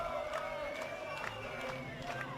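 A home crowd cheers a go-ahead goal for ten-man Peninsula Power in an FFA Cup Queensland match against Olympic FC, a steady roar with scattered whoops and shouts across the stands and no clear talk on top.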